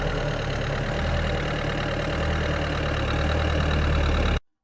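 A car stuck in sand or mud runs its engine steadily at a low, rumbling pitch while the clutch is slowly engaged, loud and continuous for a few seconds, then cuts off abruptly.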